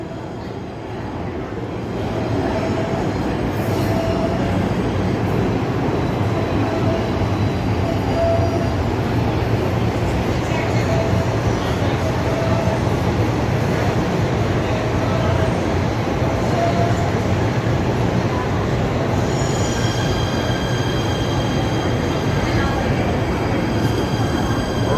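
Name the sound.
New York subway train rumbling into the station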